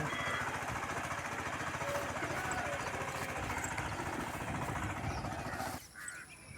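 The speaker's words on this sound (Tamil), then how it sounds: "அதுக்கப்புறம் வண்டி ஓட்டிட்டாங்க" A farm vehicle drives through a field, its engine a steady, low rattling chug at moderate distance that suddenly drops away near the end, with faint voices in the background.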